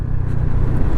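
A vehicle on a road near Frog Hill in Ooty roars past loudly and close, a dense low engine rumble filling the whole brief moment.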